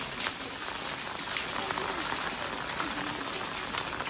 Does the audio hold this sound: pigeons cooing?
no